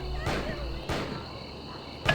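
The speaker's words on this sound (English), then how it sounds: "The crickets chirping and wolves howling really make you feel alone." Crickets chirp steadily in the quiet night ambience of a level in the Postal video game, a thin continuous insect trill running through the clip with a few soft thuds and bursts of noise.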